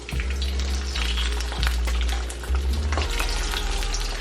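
Empanadas fry in a pan of hot oil, giving a steady, loud sizzle with a low rumble underneath. It runs continuously without any talk.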